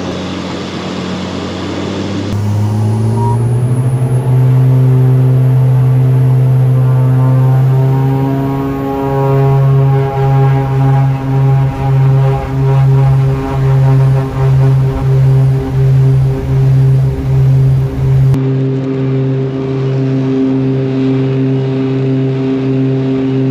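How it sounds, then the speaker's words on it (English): One of the world's rarest aircraft runs its propeller engine in flight, a loud, steady droning hum with strong tonal harmonics and a faint rhythmic pulsing, heard close and continuous. "Just listen to this engine sound."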